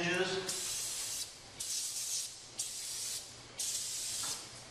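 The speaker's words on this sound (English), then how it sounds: "now I'm going to spray all the end hinges" Lubricant is sprayed onto the end hinges of a closed garage door in three sharp, hissing aerosol bursts of about a second each, close to the microphone, with a voice briefly heard at the start.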